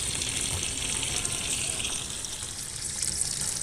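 Water rushes steadily into the tub of a SHARP PureMagic ES-T70MW washing machine, making a continuous broadband gushing hiss with no pauses, heard close up.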